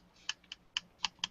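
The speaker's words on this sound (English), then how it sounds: "so it actually has a click to it" An Xbox One controller's directional pad being tapped gives five sharp plastic clicks at an uneven pace, close and quiet, with no talking.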